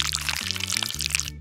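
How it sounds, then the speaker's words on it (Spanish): Paint pours into a small cup with a soft, continuous liquid stream lasting under two seconds, close and fairly quiet, with no talking over it. "Echamos un poquito de pintura en esta taza de aquí."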